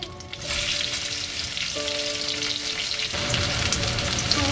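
Whole cumin seeds sizzle in a small splash of hot olive oil as a tempering for a Bengali mutton and cauliflower dish, a steady close crackling hiss that runs alone throughout with no voices.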